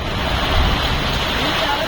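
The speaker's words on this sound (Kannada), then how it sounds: "ಫುಲ್ ಮಿಂಚು, ಮಳೆ, ಗಾಳಿ" Loud, constant roar of wind and pounding rain in a lightning storm, a dense rushing wash with buffeting gusts close to the microphone.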